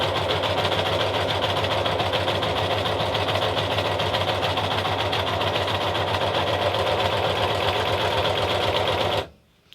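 An overlocker runs steadily, its feeders pulling medium-weight fabric through as it stitches with a dense, continuous mechanical whir and rapid clatter, loud and close, stopping abruptly at the end.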